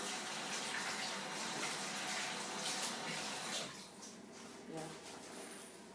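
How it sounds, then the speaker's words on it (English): Running water from a kitchen tap as hands are washed under it, a steady splashing flow that eases slightly partway through, with faint kitchen background sounds. "Wash my hands."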